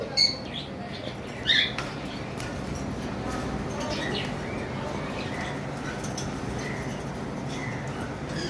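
Caged pet birds including a yellow pair, lovebirds and cockatiels give scattered short chirps and squeaks over steady background noise, with a couple of louder calls early on.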